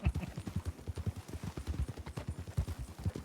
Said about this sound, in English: riding the sheriff of Limpany's horse